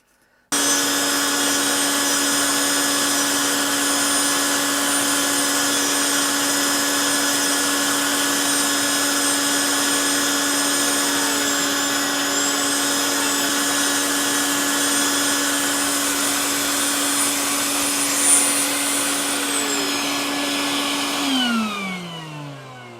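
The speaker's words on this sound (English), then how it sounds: "use the vacuum cleaner here to" Vacuum cleaner running steadily as dust-catching suction while a Dremel rotary tool grinds material trimmed against an aluminum foil template, a loud continuous whine that holds nearly unchanged before winding down at the end.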